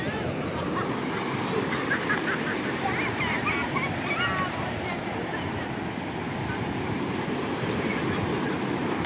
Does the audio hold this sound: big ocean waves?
yes